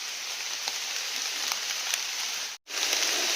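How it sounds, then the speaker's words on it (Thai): Heavy rain pours down steadily in a dense, even hiss with scattered drop impacts, falling on a hillside during a mushroom-foraging outing, loud and close with no voices. "ฝนตกห่ำแล้วครับบ้านนี้"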